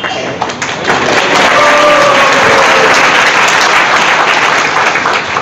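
A large crowd applauds loudly and steadily during a Hindi religious lecture at ISKCON Seshadripuram, a dense wash of clapping that swells and holds without a break.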